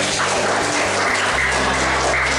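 A school class claps together in a classroom, a dense, loud patter of many hands, with a low electrical hum running underneath.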